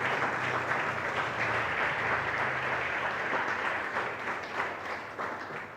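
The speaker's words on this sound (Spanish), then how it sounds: "Denle un aplauso al Señor" A church congregation applauding during a Spanish-language sermon, sustained clapping from many hands at moderate distance, steady throughout with a low background hum.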